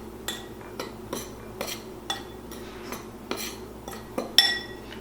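Salt, baking soda and baking powder are stirred together in a bowl, a utensil tapping and clinking against the side in a steady rhythm of about one knock every half second, close and crisp with no talking.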